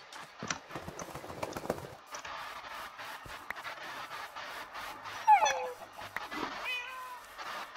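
A tamed wolf in Minecraft whimpers, giving thin high whines near the end of the stretch amid clicks, footstep-like taps and faint background voices.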